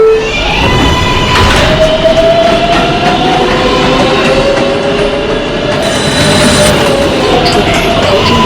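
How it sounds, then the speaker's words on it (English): A Brooklyn Bridge-bound R142A 6 subway train runs loudly and steadily, with a droning motor whine, rumbling wheels and high squeals from the rails throughout. "This is a Brooklyn Bridge-bound 6 train"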